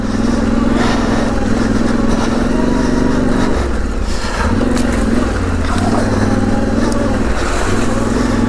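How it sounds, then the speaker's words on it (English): A Yamaha Tenere 700 motorcycle rides through puddles, its engine droning loud and steady up close with a wash of water spray and road rumble throughout. "Hopefully those puddles cleared my tires a wee bit."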